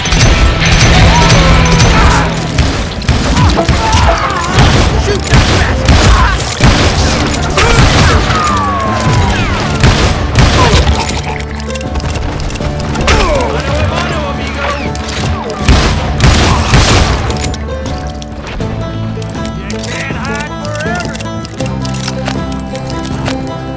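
Heavy, sustained gunfire rattles from many hired guns in a Call of Juarez Gunslinger shootout, with dense overlapping shots and booms that are loud and close, thinning somewhat toward the end.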